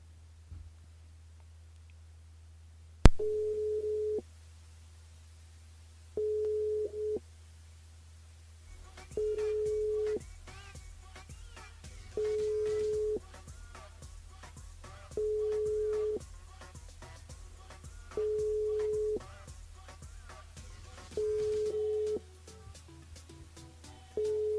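A telephone call to a radio show listener goes unanswered, with a steady ringback tone repeating in even on-off pulses over a low hum, moderately loud.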